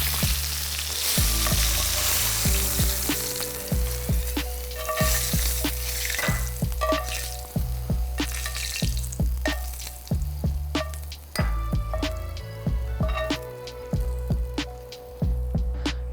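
Steak sears in a hot pan, a loud, continuous close-up sizzle running throughout, broken by frequent sharp pops, spits and taps as the meat cooks.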